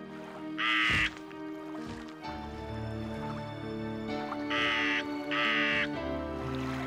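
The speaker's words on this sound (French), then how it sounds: "Jour après jour, le corbeau s'éloignait à tire-d'aile." Crow or raven calling in several loud, harsh caws spaced across the stretch, each a short burst, over a steady low background of layered music-like tones.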